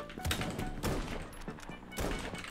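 Gunshots in the Krunker.io first-person shooter game: a few sharp reports spaced irregularly over a couple of seconds, fairly loud against a busy game background, with no talking.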